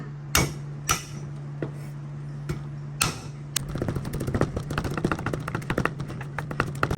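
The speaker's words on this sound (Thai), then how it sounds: "ทุบกระเทียม" Garlic being pounded to crush it in a kitchen while cooking egg with fermented pork: a few loud, spaced thuds, then a rapid flurry of close knocks over a steady low hum.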